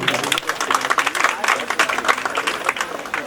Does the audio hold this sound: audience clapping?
yes